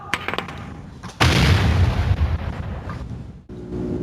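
A grenade blast in the video game Black Mesa, one sudden loud boom with a rumbling tail after scattered game sounds, cutting off abruptly.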